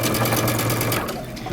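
A sewing machine stitches a shirt dress seam with a steady, loud, close mechanical whir and a rapid needle chatter that runs without a break, and no one is talking.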